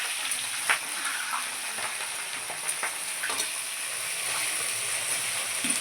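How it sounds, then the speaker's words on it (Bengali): Cauliflower pieces frying in hot white oil, a steady close sizzle with soft crackles and pops throughout, no talking. "কপিগুলো দিয়ে দিলাম তেলেতে, একটু ভাজা হবে।"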